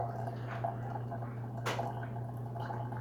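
Water poured over a coffee filter to rinse it, a soft steady trickle and splash with one brighter splash partway through, close and alone over a low background hum.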